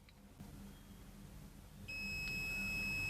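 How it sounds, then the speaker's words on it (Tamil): A multimeter's continuity beeper sounds as a transformer winding is tested: a faint, quiet room, then one steady high electronic tone that holds without a break through the final second or so. "அதே மாதிரி பீப் சவுண்ட் வருது, ஜீரோவுக்கு போயிடுச்சு"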